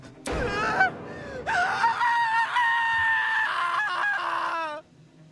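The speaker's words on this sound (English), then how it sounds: "Kai's scream rang loud and clear in my ears." A loud, shrill game-character scream from the murder-mystery game Project: Eden's Garden, rising and wavering with harsh overtones for about four seconds before cutting off.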